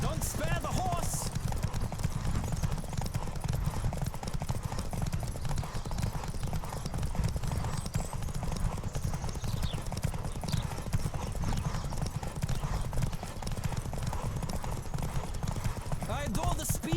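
In The Witcher 3, a horse gallops in a race, hooves drumming in a fast continuous rhythm, loud and close for the whole stretch, with a snort or whinny early on and game voices talking over it.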